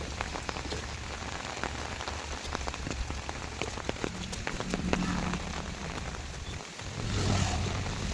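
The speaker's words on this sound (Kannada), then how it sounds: "ತುಂಬ ಅಂದರೆ ತುಂಬ ಮಳೆ ಆಗ್ತಿದೆ" Heavy monsoon rain pours steadily on a flooded road near Sirsi, a dense hiss of drops with scattered louder splatters, swelling slightly near the end.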